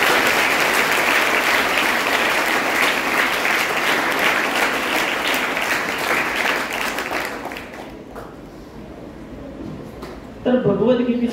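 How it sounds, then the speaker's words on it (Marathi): A crowd claps loudly at a Gita Jayanti lecture, a dense, sustained applause that gradually thins and fades before a voice begins speaking near the end. "त्याबद्दल त्यांचं कौतुक टाळ्या वाजून केलं पाहिजे"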